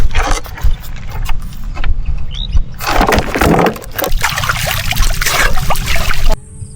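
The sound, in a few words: stream water flowing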